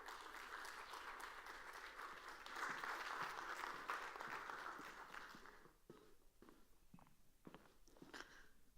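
Audience applause at the SXSW 2023 All Things Food Summit as panelists walk to the stage, a dense steady clapping that swells midway, then thins into scattered claps and footsteps on stage.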